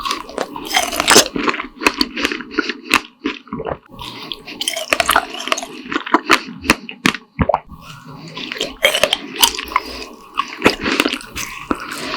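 Fresh strawberries being eaten close to the mic, a series of wet crunching bites and chewing in an uneven rhythm with juicy, dripping textures and no talking.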